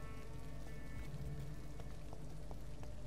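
Steady rain falls in the video game Vampyr, a continuous hiss of drops on surfaces with a low rumble and faint tonal game sounds underneath.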